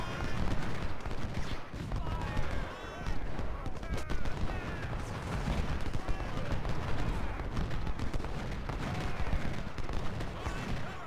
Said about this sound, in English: Now my siege weapon can shoot him.